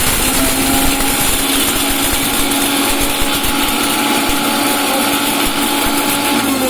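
An electric mixer grinder whirs loudly and continuously while grinding roasted pepper and cumin into powder, with a harsh, rattling high-speed blade noise throughout.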